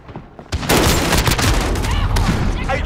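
Rapid bursts of gunfire in the video game Modern Warfare 2019 during a Headquarters match, dense and loud overlapping shots and booms after a quieter start, with faint shouting voices mixed in.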